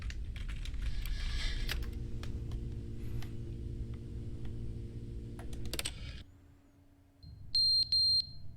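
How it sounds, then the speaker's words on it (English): Electronic beeping alarm in the video game The Stanley Parable: Ultra Deluxe, two short loud high beeps near the end after a dark humming game ambience quiets down. "What is that beeping"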